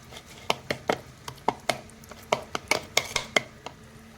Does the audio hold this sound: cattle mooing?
no